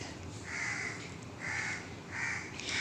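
A flock of crows caws in the morning, giving four loud, harsh calls in an even rhythm with short pauses between them, and no voices.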